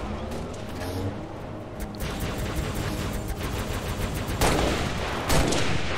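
Rapid, continuous gunfire from a Halo: Reach Firefight match rattles in dense bursts throughout, loud and busy with layered weapon shots and a brief heavier crack near the end.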